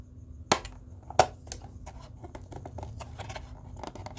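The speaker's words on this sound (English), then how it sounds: "I'm going to use the scissors." Scissors snip twice with sharp crisp cuts, followed by lighter rustling and small clipping sounds nearby.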